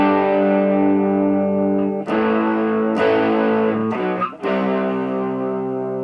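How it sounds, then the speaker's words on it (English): A 2022 Gibson Flying V electric guitar in Antique Natural through a tube amp on its clean channel, breaking up slightly; sustained ringing chords with a few new strums and brief string breaks, loud and alone. "it still kind of has a weird distorted quality to it"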